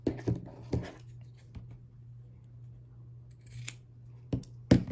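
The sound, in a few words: scissors cutting fabric at an angle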